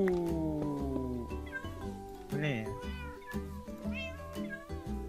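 Cats in the video game Minecraft meow repeatedly in high, wavering calls, some overlapping, under and between excited talking.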